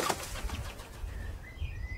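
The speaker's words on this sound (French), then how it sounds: "Un oiseau s'envola brusquement dans les murmures de la montagne de Peterboth." A bird suddenly taking off in a mountain setting, a quick burst of flapping wings close by, with soft rustling air and faint chirps trailing after.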